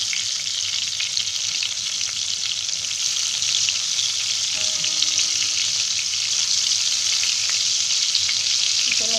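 Schezwan chicken keema cutlets shallow-frying in hot oil over high heat, a steady, even sizzle holding throughout with a few faint clinks and a brief tonal sound midway.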